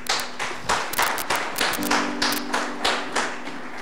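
A church congregation breaks into applause in praise, a dense, close patter of many hands clapping at an irregular, lively pace, fairly loud and without speech.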